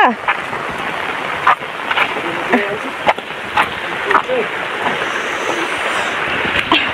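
Rain floodwater rushing along a road, a broad steady wash of water noise with wind buffeting the microphone, while people talk over it.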